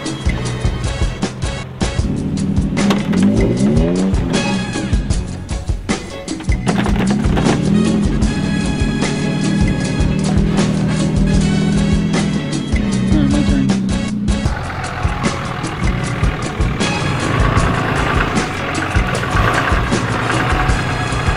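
A Prospector XL off-road vehicle with no rear sway bar and nearly 40-inch tires crawls the Hells Revenge trail, its engine droning loud and steady throughout with scraping, rumbling bursts over rock.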